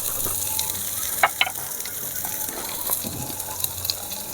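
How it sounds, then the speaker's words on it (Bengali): Turmeric with ground ginger and cumin paste fries in a pan for a Bengali eggplant side dish, a soft continuous hiss with a few brief crackles and stirring scrapes, close and fairly quiet, with no voices. "পরিমাণ মতো হলুদ, ভালো করে ভেজে নিতে হবে।"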